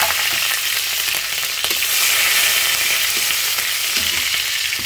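Onion and green chillies fry in hot oil in a pan, a loud, dense, continuous sizzle up close with faint clinks underneath and no voices.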